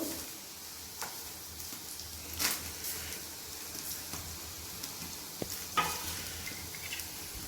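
Dry scraping and stirring as peanuts and sesame seeds roast in a pan, faint crackling, with occasional louder scrapes over a soft background hiss.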